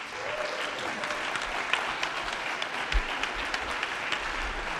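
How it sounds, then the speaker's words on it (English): At a startup pitch event, an audience applauds after the presentations. The clapping is steady and fairly close, holding at an even level throughout. "Please clap."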